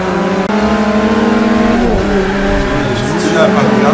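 Full-throttle race car engine in Forza 5 on Xbox One, a loud sustained whine that climbs steadily, dips at a shift near the two-second mark, then climbs again, with a voice talking over it throughout.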